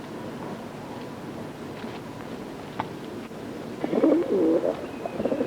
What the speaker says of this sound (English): A group of Tommies brought along carrier pigeons, which are released to fly home with the message